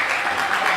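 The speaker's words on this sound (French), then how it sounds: "applaudissez" Audience applause during a French-language debate competition, a brief steady burst of many hands clapping, dense and even with no pauses.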